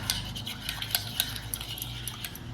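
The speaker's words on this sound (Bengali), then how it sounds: "ডিমের কুসুমটা প্রথমে আমি একটু নেড়ে চেড়ে নিচ্ছি" Egg yolk being stirred in a bowl for an oven-free cake batter, with light rhythmic clinks and scrapes of a utensil against the bowl, close and fairly quiet, no talking.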